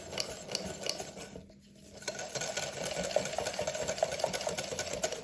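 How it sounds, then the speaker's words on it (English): Donut batter being stirred in a bowl at a camp setting, a steady scraping and rubbing texture that pauses briefly midway, then resumes with fairly even strokes, close and moderately quiet. "give it a good stir until your batter is smooth and you've got rid of any"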